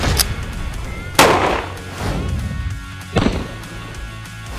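Two sharp, loud gunshots fired at a firecracker, a couple of seconds apart, each ringing briefly, over a murky outdoor background.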